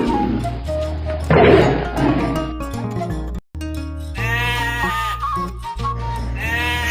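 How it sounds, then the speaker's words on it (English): Sheep bleat loudly and close, several wavering cries in a row, the first burst rougher and noisier, the later calls clearer and more tonal after a brief silent gap. "Sheep."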